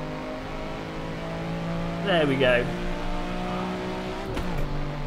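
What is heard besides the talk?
race car engine revving in video game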